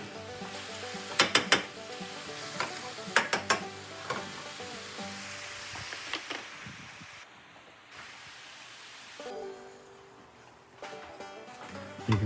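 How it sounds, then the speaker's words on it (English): Ravioli sautéing in avocado oil and butter, a steady close sizzle with sharp clicks of a utensil stirring and scraping the pan early on, then a softer continuous frying hiss. "as they start sauteing up in that avocado slash butter concoction"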